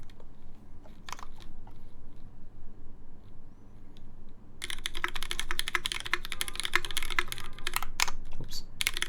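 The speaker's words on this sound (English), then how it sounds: "they're not very heavily lubed, so don't expect like it to sound very buttery or anything, but it should be a different switch" Keys on a keyboard with lubed Cherry MX Black Clear Top switches, sparse clicks at first, then a fast, dense burst of steady typing close to the mic.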